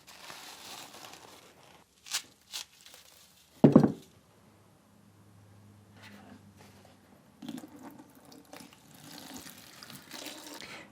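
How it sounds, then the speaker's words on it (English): Warm water is poured onto a dry coir block to rehydrate it, a short splashing burst followed by soft trickling, crinkling packet sounds and quiet sloshing, close and mostly faint. "set this coir to rehydrate in 1 litre of warm water"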